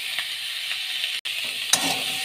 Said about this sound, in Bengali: অনেকটা ভাজা ভাজা হয়ে গেছে আলু সোয়াবিন।